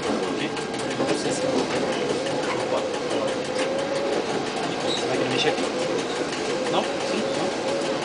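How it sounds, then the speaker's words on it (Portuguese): A CPTM Series 5000 commuter train on Line 8 in São Paulo runs steadily, heard from inside the cab as a continuous rumbling drone with faint clicking, while distant voices murmur underneath. "Eu tô aqui na cabine do trem e tô passeando ainda."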